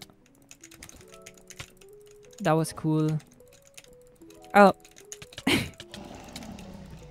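Quick bursts of clicking from a mouse during a Minecraft Bedwars match, clustered in a few short rapid runs amid game sounds, with a person talking briefly.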